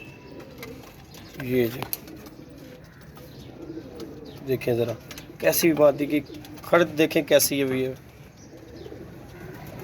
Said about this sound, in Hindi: माशाल्लाह कबूतरी है यार।